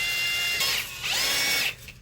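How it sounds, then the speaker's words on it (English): A power drill spins a dryer vent cleaning brush, a loud continuous whirring that dips briefly and surges back, the rotating brush scraping inside the duct. "Just screw the brush side into one end and the other side into your drill, and here we go."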